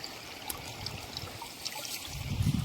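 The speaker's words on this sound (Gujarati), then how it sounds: "મસ્ત વહેતું પાણી," Natural water flowing along a stream on a farm, a soft continuous trickle and babble heard outdoors at low level, swelling slightly louder toward the end.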